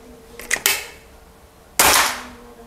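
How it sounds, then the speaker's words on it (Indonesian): Shots from a PCP air rifle: a couple of quick sharp cracks close together, then a louder crack about a second later, each a bright burst with a short decay, with no talk. "4 kali tembakan"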